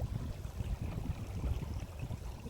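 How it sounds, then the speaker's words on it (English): Spring water from Boca Spring running through the middle of a small stream, a low continuous burbling rush heard close and moderately quiet, with no voices. "The water is running right through here in the middle."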